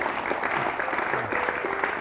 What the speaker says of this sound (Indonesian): Ini tepuk tangan dulu untuk Mbak Yayu.